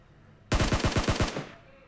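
Gunfire in a battle royale video game: a loud rapid burst of about eight shots in quick succession, cutting off sharply with a short tail, no talk over it.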